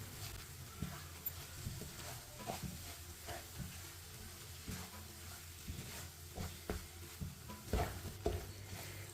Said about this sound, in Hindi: आप इसे 3-4 मिनट के लिए पका लेंगे ऐसे ही चम्मच चलाते हुए